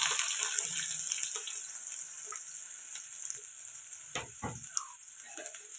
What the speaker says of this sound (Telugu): ఆయిల్ వేడెక్కింది ఇప్పుడు కట్ చేసి పెట్టుకున్న పచ్చిమిర్చి అలాగే సన్నగా కట్ చేసి పెట్టుకున్న ఆనియన్స్ కూడా వేసేయాలి